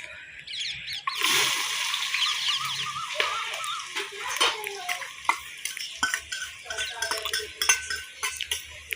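Cumin seeds hit hot oil for poha with a sudden burst of sizzling that then fades into crackling, followed by close scraping and clinking of a spoon against the pot.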